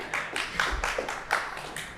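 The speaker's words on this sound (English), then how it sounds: "these people are clapping" Scattered audience clapping in a studio debate setting, a few distinct sharp claps spread irregularly across the moment rather than full sustained applause, moderately close and without talk.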